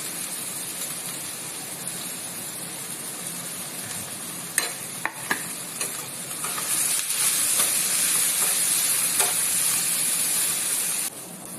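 Chopped onions fry in oil in a pan for a fish curry, a steady broadband sizzle that swells louder midway, with a few sharp spatula scrapes and clicks against the pan.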